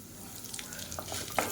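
Urad dal and curry leaves sizzle in hot oil, a quiet, steady crackle with occasional scraping of a spoon stirring the pan.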